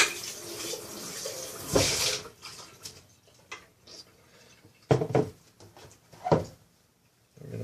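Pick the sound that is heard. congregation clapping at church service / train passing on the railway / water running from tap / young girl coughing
water running from tap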